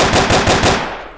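An automatic weapon in a GameMaker game fires a fast, loud burst of about five evenly spaced rounds, each with a sharp attack and ringing tail, fading out at the end.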